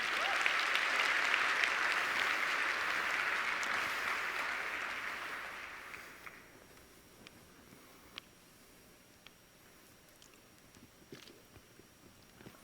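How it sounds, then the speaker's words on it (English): A crowd at a conference keynote claps loudly and steadily for about six seconds, then the applause thins out and fades, leaving a few scattered claps. "Let's give a big round of applause"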